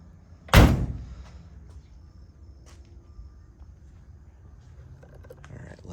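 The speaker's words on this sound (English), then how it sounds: "Let me pop the hood." The hood of a 1971 Datsun Bluebird SSS coupe popping open: a single loud, sharp metallic thunk near the start, then quiet with faint handling noises.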